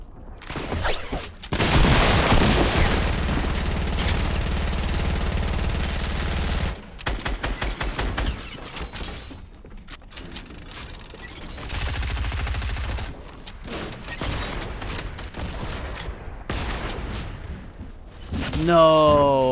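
Fortnite gunfire shoots down a built structure in bursts of rapid shots and booms, loud and close, broken by short gaps.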